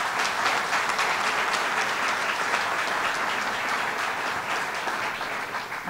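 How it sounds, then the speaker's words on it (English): Sustained applause from an audience at a Governor Cuomo event in Binghamton honoring the host couple and their family, a thick, continuous patter of clapping that holds steady and eases slightly toward the end. "Please give our host and hostess a big round of applause, Mr. and Mrs. Krajan and their family."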